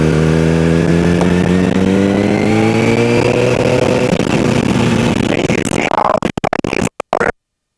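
A motorcycle engine revs up as throttle is applied in a large parking lot, rising in pitch over several seconds, loud and close, then cutting off into brief crackling.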